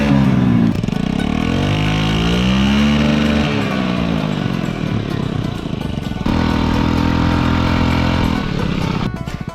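A Honda Ruckus scooter engine, recently submerged in water, idles and revs loudly up close, its pitch rising and falling, with a brief dip before it steadies again.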